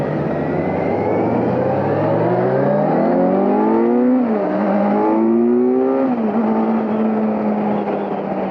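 A 2022 Kawasaki Z900 motorcycle accelerates hard. The engine note climbs steadily, dips briefly at a gear change, rises again and settles into a steady drone. It is loud and close, with wind rush and no talking.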